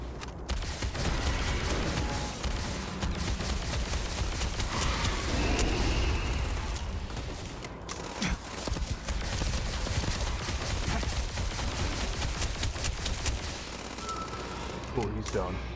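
Rapid bursts of video game gunfire crackle almost continuously during a sci-fi mission against a Terramorph, with clattering mechanical noises and occasional heavier booms, all dense and loud throughout.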